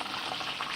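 Mustard-battered chicken wings deep frying in hot oil, a steady close bubbling and sizzling that fills the whole moment without any voices.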